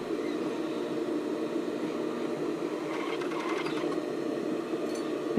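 A sewing machine zigzag-stitches rolled-edge elastic onto a sports bra with a continuous, fairly loud mechanical whir, plus a few faint clicks partway through.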